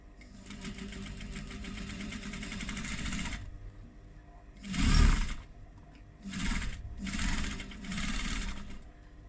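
Top stitching on faux leather for a clutch wallet, the sewing machine whirring close in a long opening run, then several short bursts divided by brief pauses.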